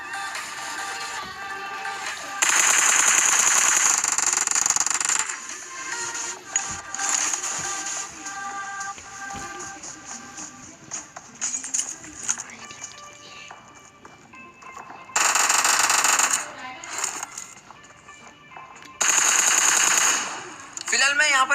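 Automatic gunfire rings out in a battle royale video game, with repeated loud sustained bursts and scattered single shots over game sounds.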